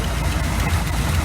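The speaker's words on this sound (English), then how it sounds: "I think it's idling a hell of a lot better" A 1986 GMC 400 small block V8 idles steadily with a carburetor that seems out of adjustment, giving a continuous low rumble with mild vibration and no talk.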